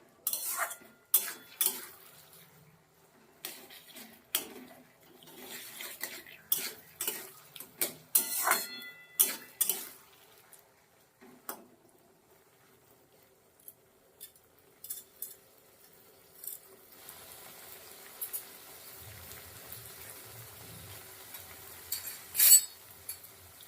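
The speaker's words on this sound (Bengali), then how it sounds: "নেড়ে দেবো, মানে পোড়া না লেগে যায়।" A utensil stirs food in a pan while making mashed cauliflower, sparse metallic clinks and scrapes in bursts, then fading to a quiet low sizzle with a few faint taps.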